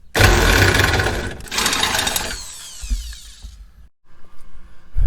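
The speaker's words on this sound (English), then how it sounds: "a lot of drilling for just an 8mm socket." A power drill with a 31/64 drill bit bores into a part while repairing the window motor of an older Ford truck, a loud whining grind that winds down, pauses, then restarts in short bursts.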